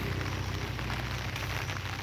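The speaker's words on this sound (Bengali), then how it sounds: "ছাতায় বৃষ্টির আওয়াজ পড়ছে" Light morning rain patters steadily on an umbrella held overhead, a close, dense drumming hiss that stays even throughout, with no voices.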